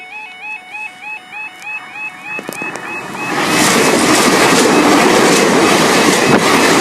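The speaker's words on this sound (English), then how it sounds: "passing through now is the final train of this video" Level crossing alarm tones beep in a steady repeating pattern at Pontsarn Lane before a Great Western Railway train roars past close by, loud and sustained with a rushing rumble and rattling wheels.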